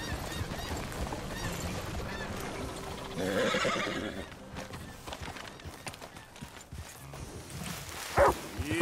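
A horse in Red Dead Redemption 2 whinnies and trots, hoofbeats running under a rider's voice, with a louder neigh burst in the middle and a sharp sound near the end.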